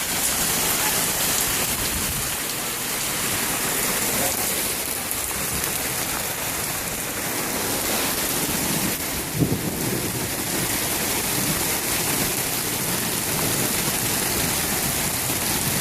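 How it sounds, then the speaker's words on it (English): Heavy Fourth of July downpour pours steadily onto surfaces outside windows in a dense, continuous broadband hiss, with a faint low rumble and one brief thud near the middle; no one speaks. "Fourth of July, crazy rain."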